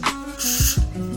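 A short hissing burst of hair melting spray is misted onto a lace closure, with faint handling knocks just before and after in a quiet room.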